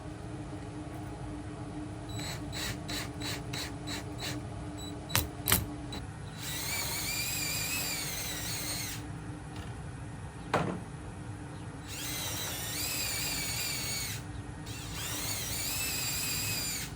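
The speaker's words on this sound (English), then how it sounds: "Now it is time to pre-drill." A power drill pre-drills holes in a 1x2 wood board during a van build, with several whining bursts of the motor spinning up and cutting, broken by clicks, pauses and a few sharp knocks.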